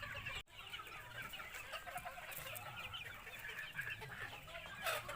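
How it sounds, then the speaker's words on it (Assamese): Local backyard chickens, 84 days old, clucking and chattering steadily as a flock, with scattered higher calls rising over a dense, continuous murmur of birds close by. "84 দিন হৈছে মোৰ লোকেল মুৰ্গীৰ"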